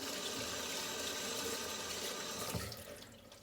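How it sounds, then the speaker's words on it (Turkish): Steady running tap water pours over hands being washed at a kitchen sink, a constant close hiss that drops off near the end as the flow is cut. "Şimdi ellerimi yıkayıp"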